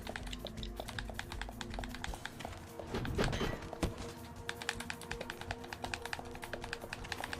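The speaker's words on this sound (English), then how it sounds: "I'm just worried about the stick clacking on the Switch" Soft, rapid plastic clacking of an analog stick on a Nintendo Switch controller, steady ticking taps close up under a quiet humming game background.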